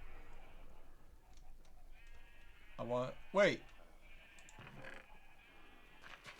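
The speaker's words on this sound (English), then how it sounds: "We need a yellow sheep and a red sheep." Sheep in a video game give two distinct, close bleats in quick succession over a quiet hum, while a person talks briefly nearby.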